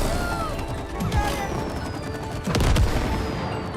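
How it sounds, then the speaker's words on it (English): Explosions from the sap gun and match gun in the co-op video game It Takes Two, heard as a couple of crashing bursts over a busy game soundscape, with a voice speaking. "Combine the sap gun and the match gun to create explosions."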